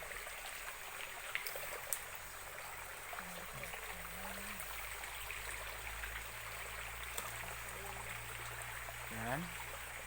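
A river in Unisan, Quezon Province, flows as a steady, quiet rushing hiss throughout, with a few faint murmured sounds beneath it.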